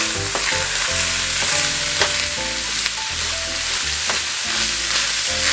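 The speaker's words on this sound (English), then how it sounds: "it's browning up nicely. These onions are running down." Onions frying and browning in a hot pan, giving a loud, steady close sizzle and crackle, with stirring scrapes now and then and no talk.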